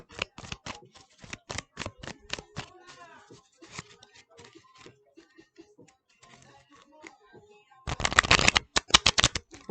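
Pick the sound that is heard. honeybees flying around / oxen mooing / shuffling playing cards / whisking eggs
shuffling playing cards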